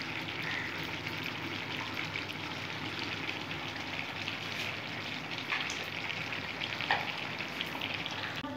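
Ghee heating in a pan, giving a steady, even sizzle with a faint crackle and a couple of small pops near the end, with no voices.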